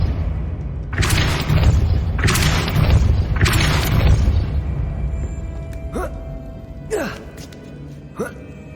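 Depulso force spells cast in the video game Hogwarts Legacy, heavy booming bursts that repeat about four times in steady succession, then sharp brief swishes and zaps follow, loud and close over a low rumbling game soundtrack.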